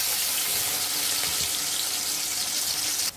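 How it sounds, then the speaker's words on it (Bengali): Water added to ground spice paste with cumin in a hot pan, a loud continuous rushing splash and hiss for about three seconds that cuts off abruptly, close up with no talk. "আমরা একটু জল দিয়ে দিব"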